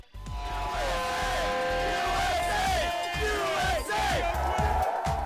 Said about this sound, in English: The audience is cheering for one of the best American downhill riders in history, Aaron Gwin.